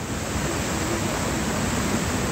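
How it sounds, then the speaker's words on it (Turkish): A swollen, flooding creek in Rize, Turkey, rushes after heavy rain as a loud, dense, unbroken roar of water, close and constant, with no speech. "Dere aşırı büyüdü."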